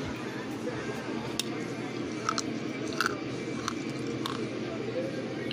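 Someone chewing and crunching a stick of gum from a 1990 Topps baseball card pack, close and fairly quiet, with irregular small crunches and clicks over a steady hissing background.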